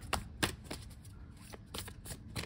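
Tarot cards are shuffled by hand, several quick crisp riffles and slaps in an irregular rhythm, close and quiet.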